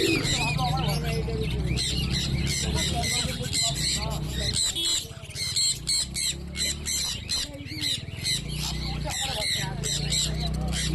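Many cockatiels at a bird market squawk and chirp loudly in rapid, overlapping bursts, with someone talking underneath the shrill calls.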